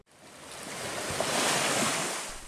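Ocean waves surge onto the shore at Polewali Mandar, West Sulawesi, where abrasion is eroding a public cemetery; a single wave swells into a broad, hissing wash and then recedes, with wind in the background.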